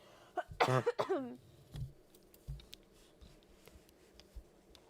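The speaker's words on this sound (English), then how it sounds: "I'm going to cough really quickly." A single sharp cough near the start, followed by a few quiet clicks and taps in an otherwise still room.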